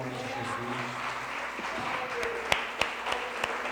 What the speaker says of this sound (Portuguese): Vamos aplaudir ao Senhor em nome de Jesus.